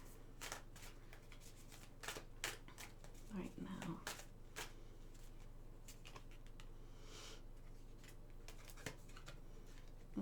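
Tarot cards are shuffled and drawn from a deck, giving repeated crisp riffles and card snaps close by, while a person keeps talking throughout.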